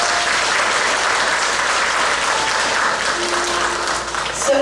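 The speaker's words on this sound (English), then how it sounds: "Please give her a round of applause." An audience at the Miss Pocomoke pageant greets Little Miss Pocomoke with steady, full applause that holds evenly throughout, with no speech over it.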